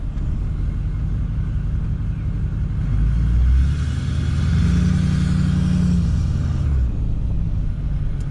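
Deep, rumbling car exhaust with a 3-inch downpipe, idling low and then swelling into a revving surge around the middle before settling back to a steady rumble, close and loud, no talking.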